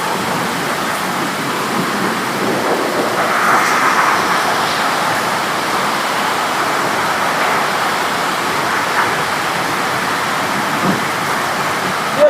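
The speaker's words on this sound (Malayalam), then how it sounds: "നല്ല മഴയാണ്." Heavy rain pours down steadily near a school, making a loud, even wash of noise that holds for the whole stretch with no break and no voices.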